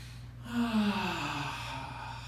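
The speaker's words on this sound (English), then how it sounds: "take a deep inhalation in and sigh it out through your mouth" A deep Ujjayi-style inhale drawn through the nose during yoga, a single close, steady breath that rises and then holds as a long airy hiss, with no talking.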